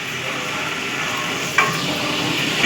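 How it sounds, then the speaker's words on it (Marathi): Mustard seeds crackle and sizzle in hot oil as a tempering for dal is prepared for a large catering order, a steady frying hiss with one brief sharper pop partway through. "डाळीला फोडणी देणार आहे कारभारीने."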